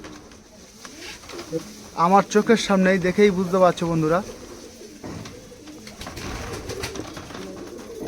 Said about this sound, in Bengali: এত ভালো গিরিবাজ কবুতরের ভরপুর কালেকশান